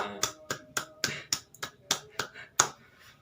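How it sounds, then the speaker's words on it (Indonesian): In a classroom group counseling session, a small group claps in sharp, separate, evenly spaced strokes, about a dozen distinct claps with quiet gaps between them. "Tepuk tangan untuk kita semua"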